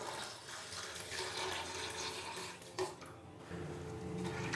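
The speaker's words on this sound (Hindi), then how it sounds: "तो पानी डाल देंगे इसके अंदर।" Two glasses of water poured into a pot of beef and spices for shami kabab, giving a steady splashing, trickling pour close by with a brief clink partway through and no talk.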